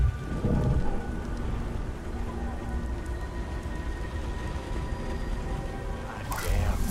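Steady heavy rain from the Beyond: Two Souls video game, a dense wash of downpour with low rumbling thunder underneath, continuous and loud throughout with a brief swell near the end.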